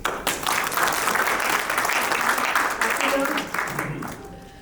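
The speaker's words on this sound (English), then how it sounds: "I should say a big round of applause for our dear," Audience at a morning event applauding a respected guest: a burst of lively clapping from a room of people, steady for several seconds before tapering off.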